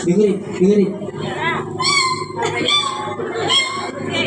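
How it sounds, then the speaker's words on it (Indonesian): A kitten mewing in a small prayer room, its thin high cries rising repeatedly over a man's ongoing speech, fairly close and clear. "Anak kucing."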